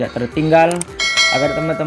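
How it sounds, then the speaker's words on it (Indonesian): A bright notification bell chimes twice in quick succession, clear and close, with ringing metallic overtones and no talking over it. "klik tombol subscribe dan nyalakan lonceng notifikasinya"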